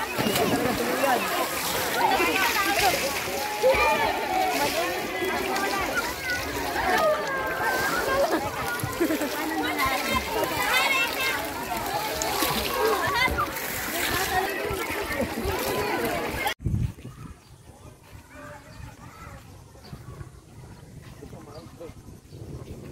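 A child jumping into the water at Unisan Sands white sand beach resort, with busy splashing and sloshing under ongoing chatter, then the scene cuts abruptly to a much quieter background near the end.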